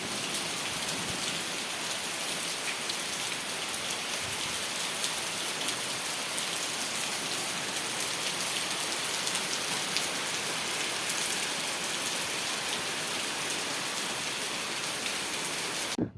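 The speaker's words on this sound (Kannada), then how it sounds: "ತುಂಬ ಮಳೆ ಬರ್ತಾಯಿತ್ತು" Heavy monsoon rain pours down steadily outside a house, a dense, continuous hiss of drops hitting the ground and surfaces, loud and unbroken throughout with no voices.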